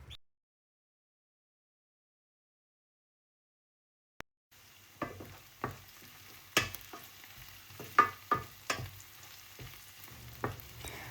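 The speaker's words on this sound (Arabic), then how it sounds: "ونحمر في هذه المرحلة البصل المليح، لازم ياخد اللون الذهبي" Onions fry in a pan until golden for a Spanish-style potato dish, starting after a few seconds of silence, with a soft crackling sizzle punctuated by repeated scraping stirs of a utensil against the pan.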